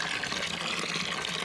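Vinegar is poured bartender style from a height onto a rusty water pump housing as a derusting soak. It makes a steady, close liquid splashing stream throughout, with no talking.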